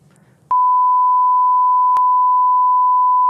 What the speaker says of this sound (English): Say it, we'll beep it out.